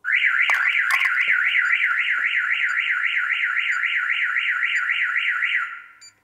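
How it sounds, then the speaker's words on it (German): An Audi car alarm wails continuously in a fast warbling siren, loud and close, then cuts off abruptly near the end. "Wenn sie die in 10 Sekunden nicht findet, geht ein Vollalarm an"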